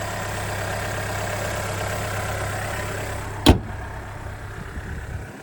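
A 1.3-liter inline-four hybrid engine in a 2024 Dodge Hornet R/T Plus hums steadily at idle under an open hood, broken once by a sharp thump near the end, with no voices.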